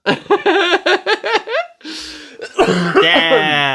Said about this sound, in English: Sorry for coughing my lungs out again.